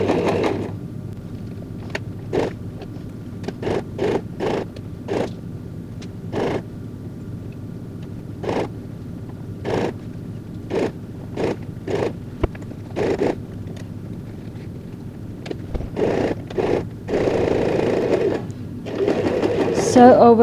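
Domestic sewing machine stitching a tote bag made from curtain fabric, running in repeated short bursts with brief pauses between, close and steady, with a longer run near the end.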